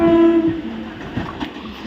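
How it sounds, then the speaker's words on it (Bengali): A local passenger train bound for Howrah rumbles along steadily, with a sustained horn-like tone at the start fading into continuous rolling rail noise. "এখন দেখো ট্রেন ছুটে চলেছে আমাদের হাওড়ার উদ্দেশ্যে"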